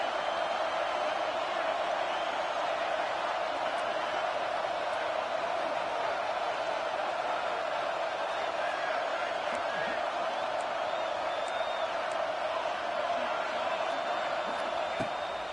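Steady stadium crowd roar from a College Football 26 video game, a continuous broad wash of massed voices holding at an even level throughout with a few faint whoops.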